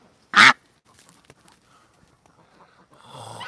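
A duck gives a single short loud quack close by, followed by near silence with faint rustles and a low rising noise at the end.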